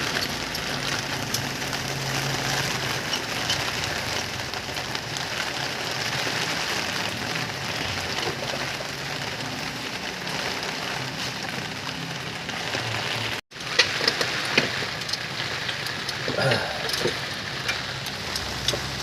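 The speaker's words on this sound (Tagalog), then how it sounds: "Kasi malakas ang ulan." Heavy rain from Typhoon Odette pours steadily in Escalante City around a stalled Mitsubishi Lancer being rescued. A broad, constant wash of rainfall continues at moderate level, with a brief dropout and faint vehicle rumble beneath.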